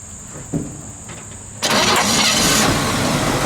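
A 1958 Chevrolet Biscayne six-cylinder engine cranks briefly, then catches and settles into a steady, loud idle that runs through to the end, with no voices.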